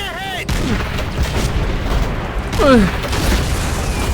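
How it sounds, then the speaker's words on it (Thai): Explosions and gunfire ring out in the Call of Duty: World at War video game on a push toward Berlin, with heavy booms and shots over game sound effects, with no voices over it. "เออ ระเบิดสักที"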